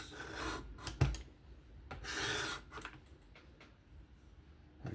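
A Kizer October 20CV folding knife blade drawn in a trailing pass across a Work Sharp Professional Adjust sharpening stone, soft close rasping strokes with a sharp tap near the start and quiet handling between passes.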